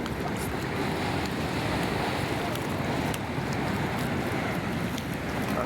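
Big ocean waves crash and surge in a steady, loud roar with strong wind buffeting the microphone, and people's voices occasionally break through the noise.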